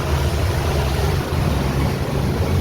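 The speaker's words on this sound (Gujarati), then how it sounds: "વરસાદ ચાલુ છે." Steady heavy rain pours down with water running and splashing on flooded ground in Hyderabad, a constant dense wash of sound with no breaks and no voices.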